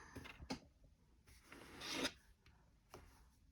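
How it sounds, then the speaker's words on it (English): Excess material being scraped off a fingernail with tweezers or a toothpick, several quiet, close rasping strokes, including one longer scrape, in an otherwise silent room. "I'm going to scrape all that extra off so that I can see exactly what's going on"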